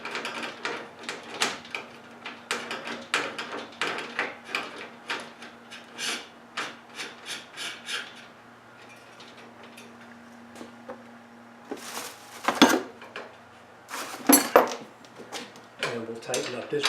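Wrenches turn a screw and hold a nut on a garage door, giving irregular metallic clicks, ratcheting rubs and scrapes in uneven bursts, with a few louder clanks later and quiet gaps between.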